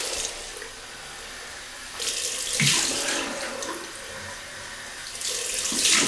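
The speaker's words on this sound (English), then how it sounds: "Cold rinse." Tap water runs into a sink for a cold rinse during a wet shave with a Gillette Heritage double-edge razor, a steady splashing stream that swells and fades in bursts, with no one talking.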